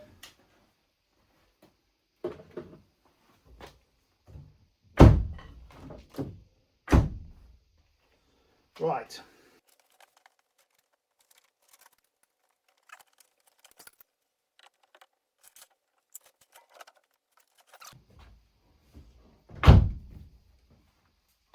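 Door card panel being pressed and clipped onto an MG3 car door, giving several sharp thuds and knocks spread across the stretch, with quieter taps and fiddling between them and a brief spoken word.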